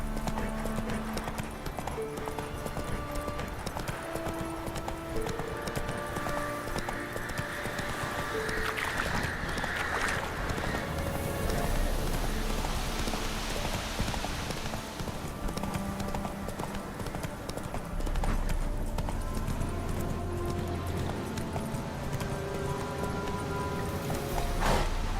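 Roach the horse galloping in Witcher 3, a steady run of rhythmic hoofbeats with the game's music and ambience, with a brief rush of wind midway.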